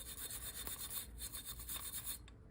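A stainless steel wire brush scrubs a dirty GM hydroboost part in quick, steady back-and-forth rasping strokes, close and continuous for most of the stretch before stopping near the end.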